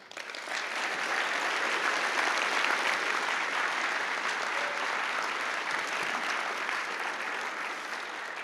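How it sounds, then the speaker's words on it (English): A conference audience gives a sustained round of applause, dense even clapping from many hands that swells quickly and holds steady throughout. "So join me in one round of applause for everyone who might not have been mentioned"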